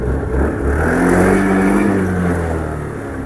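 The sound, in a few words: Honda Activa scooter engine started and running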